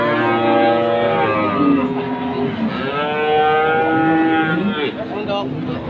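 Cattle mooing repeatedly at a crowded livestock market in Indonesia, with long, loud, overlapping bovine calls filling the clip against a dense background of market noise.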